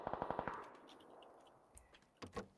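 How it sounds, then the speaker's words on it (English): Video game gunfire: a rapid burst of about six automatic shots opens the clip, followed by quieter scattered sounds and a couple of later thuds, all fairly faint. "He started shooting"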